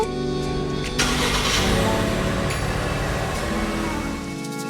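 A 2025 MG ONE's 1.5-litre turbo engine auto-starts, cranking and catching, then settles into a steady idle hum nearby, with a brief rise in revs as it starts.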